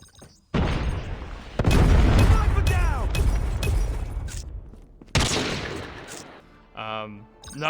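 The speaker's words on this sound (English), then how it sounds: "Predator Missile inbound" A Predator Missile strike in a mobile shooter video game sets off several loud, booming explosions and bursts of gunfire, with a pause before another blast and a voice briefly heard near the end.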